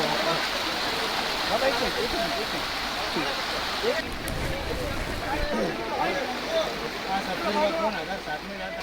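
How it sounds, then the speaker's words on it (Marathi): Floodwater from swollen rivers rushes across a road as a steady, loud broadband roar throughout, with a voice speaking over it. "या नद्यांना पूर आलेला आहे नद्यांचं पाणी रस्त्यांवरती आलेलं आहे"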